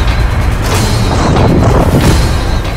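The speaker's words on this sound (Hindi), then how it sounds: "बड़ा धमाका।" Big explosion from an attack on an Israeli Merkava tank in Gaza, a loud sustained rumbling blast with dense low-end roar filling nearly three seconds, close and heavy.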